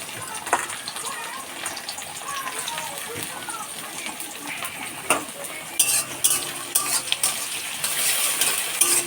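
Chopped onion frying in a pan for Bengali chicken kosha, a steady sizzle broken by clinks and scrapes of a spoon stirring against the pot.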